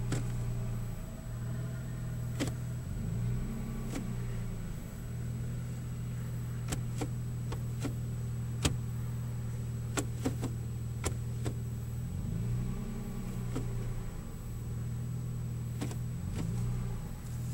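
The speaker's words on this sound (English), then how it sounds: "we're going to just run it through the gears and see if it goes into gear just fine." A 2010 Toyota Tacoma PreRunner SR5 TRD idles steadily while being shifted through its transmission gears, the low engine hum dipping and rising with each change amid scattered clicks, no voices heard.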